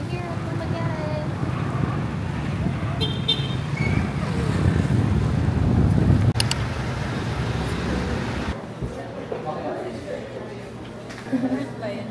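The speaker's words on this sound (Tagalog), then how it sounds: "Lak ng hangin" Strong wind gusting across the microphone outdoors near Dumaguete airport, a loud, steady low rumble and buffeting that eases after about eight seconds, with voices faintly present underneath.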